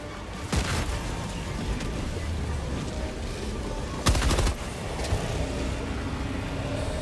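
Thrown grenade exploding in Helldivers 2 amid ongoing gunfire, with a sharp crack early on and a heavier half-second blast later, set over constant battle noise.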